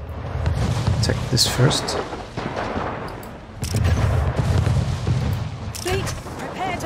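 A ship fleet in the Anno 1800 video game fires its cannons at pirates in a naval engagement. Repeated booming salvos crackle and rumble in two heavy waves, and someone speaks briefly over the gunfire.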